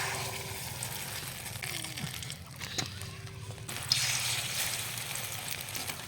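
Liquid poured into very hot oil in a pan gives a steady watery sizzle and splash, close and moderately loud, for several seconds with a brief brighter burst near the end.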